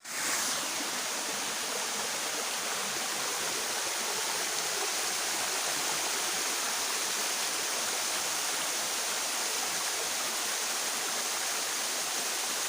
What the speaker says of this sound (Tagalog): Kusog ang tubig ros busay. Na madungog na ninyo pan sa busay.